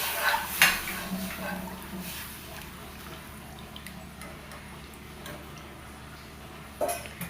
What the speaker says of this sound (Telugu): ఈ చారు మొత్తం వేసి ఒకసారి కలపండి